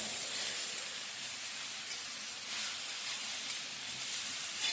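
A stuffed eggplant mixture fries in a hot pan, giving off a steady, bright sizzling hiss that holds evenly throughout with no talking.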